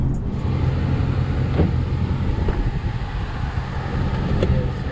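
A Dodge Charger engine downshifting on the road, a loud continuous low rumble with wind and road noise, no talk.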